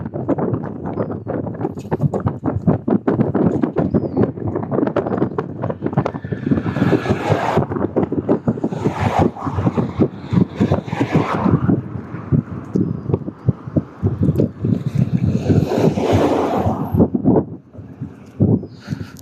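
Chilly easterly wind on the Irish coast near Kinsale, Cork, buffeting the microphone in loud, uneven gusts with rumbling bursts, continuing for the whole stretch before easing slightly at the end.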